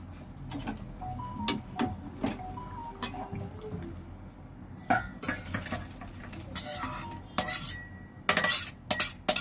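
Metal utensils scrape and clink against a pot and dishes as freshly cooked katla fish curry is served out, with irregular sharp knocks and rattles spread out, then a quick cluster of louder clatters near the end.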